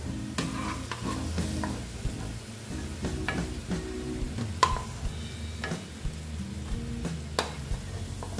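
Malabar spinach pakoras frying in a pan, a steady close sizzle of hot oil broken by scraping stirs and clinks of a utensil against the pan, no voices.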